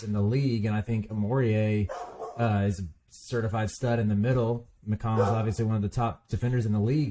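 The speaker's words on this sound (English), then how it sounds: "excuse the dogs barking" Dogs bark in the background, intermittent and moderately distant, under continuous close male speech in a sports podcast conversation about Big Ten basketball.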